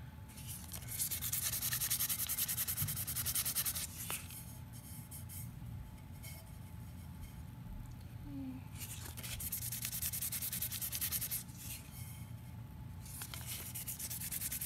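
Sandpaper rubbing over a cured epoxy coat on a glitter tumbler, a steady close scratchy friction that runs in long bursts with short pauses between passes, no talking.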